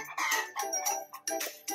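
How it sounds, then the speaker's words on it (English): A hen clucks in a quick series of short, close, nasal calls with brief gaps between them. "Hen."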